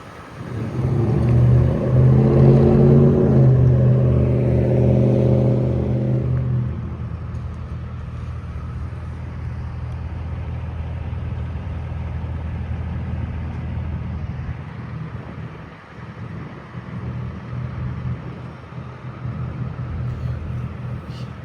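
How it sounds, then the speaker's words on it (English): A truck passes near railroad track repair work, its engine rumbling loudly for the first few seconds and then fading into a steady low drone as it moves off. "There goes a truck."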